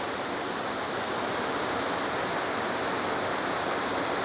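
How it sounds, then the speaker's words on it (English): Water flows and trickles down rocks at Ricketts Glen as a steady, dense wash of noise, constant and fairly close, with no voices. "But all that water dripping down."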